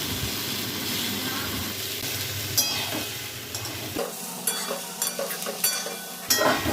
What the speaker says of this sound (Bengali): চাপড়গুলো আমি টুকরো টুকরো করে মেশাচ্ছি